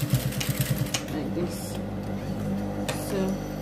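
A sewing machine stitching boys' school uniform shorts with a zipper: a quick run of rapid rhythmic stitching pulses at the start, then a continuous mechanical whir under background noise.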